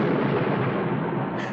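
Thunder rumbling through a night storm, a loud, steady broadband roar that holds for the whole moment without a break and with no voices over it.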